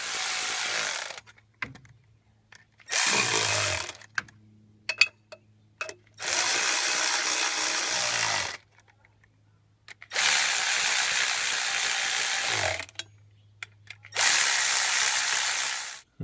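A power ratchet runs in several long whirring bursts as the original bolts are tightened on the cover of a remote-mounted oil cooler on a 6.0 Powerstroke diesel, with brief pauses and clicks between runs, close and loud.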